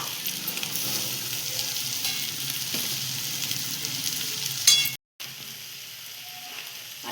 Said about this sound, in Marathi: हा निम्मा भात आपण टाकला आहे तो त्या भाज्यांमध्ये गॅस मंद आचेवर करून तो छान परतून घेऊया